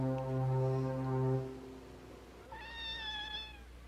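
A kitten meows in two drawn-out calls, a low steady tone first, then a higher, thinner cry, close and clear with no talk.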